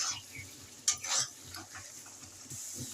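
Masala being stirred and fried in a pan for a banana-flower and chana dal curry, with scraping spoon strokes, clinks of metal and a faint sizzle at close range.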